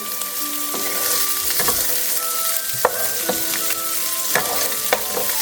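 Garlic and onions fry with a knob of butter in a pan, a continuous close sizzle punctuated by irregular stirring scrapes and a few soft clicks.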